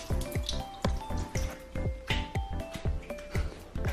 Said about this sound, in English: you're gonna need to sprinkle some water in the mirror like this